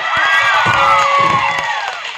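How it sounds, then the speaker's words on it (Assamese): A crowd at a Bihu comedy show cheers and shouts, with children's voices rising high over scattered claps in a brief, loud burst. "অকণ জোৰকে এটা হাত চাপৰি ৰাখে"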